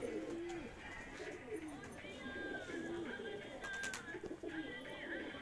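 Pigeons coo softly and repeatedly in a loft of Andhra pigeons, with low murmuring Hindi voices and faint chirps in the background.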